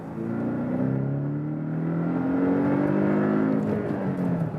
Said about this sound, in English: Let's do some acceleration here now as well, 50 to 100.